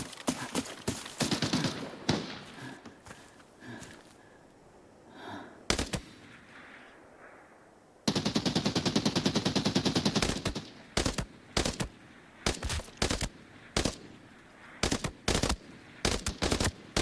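Rapid bursts of gunfire in the shooter video game Arena Breakout: Infinite, loud automatic strings and sharp single shots in quick succession with short gaps, some nearer and punchier than others.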